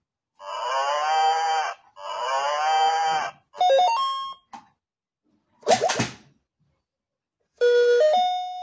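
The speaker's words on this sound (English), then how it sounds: "Cattle." Cattle mooing from an animal-sound piano toy: two long, drawn-out moos sound close and loud, followed by a few bright electronic chime notes separated by short silences.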